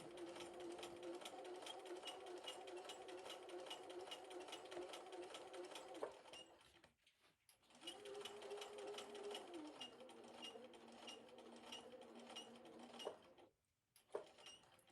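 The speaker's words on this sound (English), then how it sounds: "now I'm going to just stitch to the top of my pocket" Sewing machine stitching up the side of a pocket on a cross stitch portfolio bag, a fast steady mechanical whir that runs, pauses briefly, then resumes at a slightly different pitch before stopping.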